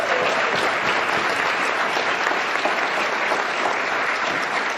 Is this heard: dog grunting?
no